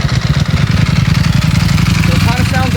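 A 2018 Ducati Panigale V4S engine idles on a dyno, a loud, deep, lumpy throb with a bassy pulse close by, and a voice starts talking near the end.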